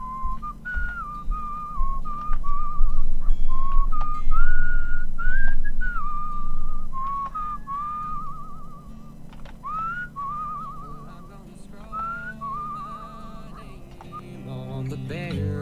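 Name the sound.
whistling, from video game Where the Water Tastes Like Wine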